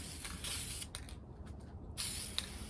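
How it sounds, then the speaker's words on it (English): A steady hiss of aerosol sealer sprayed over cinnamon on a craft pumpkin, broken by a brief pause before it resumes, close and fairly quiet. "I'm going to spray another coat of the sealer"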